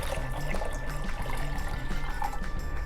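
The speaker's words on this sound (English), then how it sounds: "4 cups of water, filtered water, and I'm going to pour it in my tea." Cold filtered water poured into a container of tea, a steady continuous splashing stream close by with no talking.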